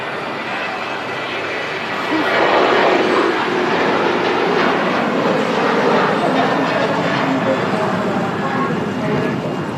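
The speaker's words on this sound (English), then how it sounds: "Sunwings is rolling." A Sunwings airliner rolls for takeoff at Manchester Airport, its engine roar swelling after two seconds and staying loud and steady, with a voice talking over it.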